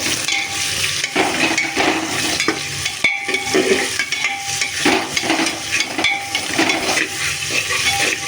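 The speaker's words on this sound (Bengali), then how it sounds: "ভালো করে এটা ভাজবো ভালো করে ভেজে নেবার পর দেখো পেঁয়াজটা কিছুটা ভেজে নেবার পর" Onions fry in a pan with a loud, close sizzle while a utensil scrapes and stirs in repeated strokes, with brief knocks against the pan throughout.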